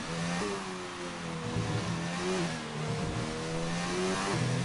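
An Audi R18 race car in a racing video game runs a flying lap down the straight at Mexico, its engine droning steadily and rising through the gears with a few shift drops, loud and continuous without talk.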